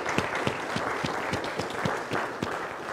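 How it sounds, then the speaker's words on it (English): Congregation at a Presbyterian Sunday worship service gives a round of applause, a soft, continuous wash of many hands with a faint, regular low thump running beneath it. "You deserve more than a round of applause,"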